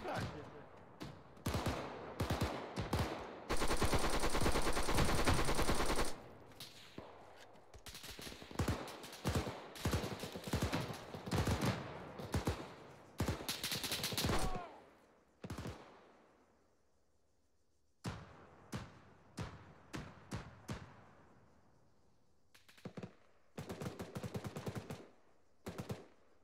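Gunfire in a convoy training game: loud automatic bursts and single shots in irregular clusters with brief gaps, and a sustained roar of fire in places. A few voices can be heard among the shooting.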